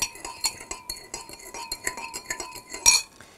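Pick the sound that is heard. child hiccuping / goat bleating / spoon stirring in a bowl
spoon stirring in a bowl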